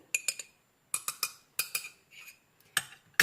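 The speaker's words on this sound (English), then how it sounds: "I'm going to mix this up." A spoon clinks and scrapes against the inside of a mug while mixing mug cake batter, in quick bursts of three or four, close up, with short quiet gaps between.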